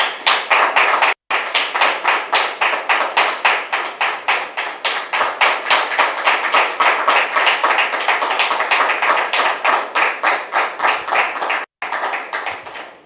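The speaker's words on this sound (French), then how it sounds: "Public, merci de la recevoir maintenant avec vos applaudissements." Studio audience on a French talk show claps in rhythmic unison, loud, even beats repeating steadily with two brief gaps of silence.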